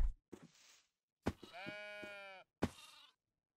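Minecraft goats bleat in a few separate calls: short nasal bursts, then a long wavering bleat, then a final brief one, clear and close with silence between.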